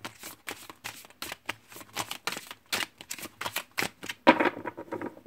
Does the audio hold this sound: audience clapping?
no